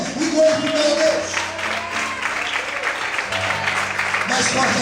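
A church congregation applauds steadily for several seconds, the dense clapping blending with sustained organ-like musical tones underneath.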